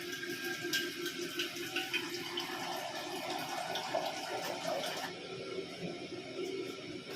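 Water gushes steadily into a tea pot in a kitchen, a continuous splashing pour with no voices, the tone shifting near the end as the flow changes.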